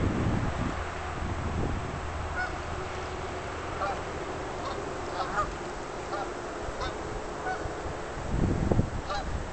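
A flock of geese honks outdoors, a scattered chorus of calls at moderate distance over steady wind noise, with no voices.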